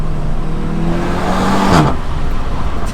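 A Seat Leon Cupra 300 engine revs hard close by, its exhaust note climbing in pitch, then cutting off abruptly before settling into a lower rumble.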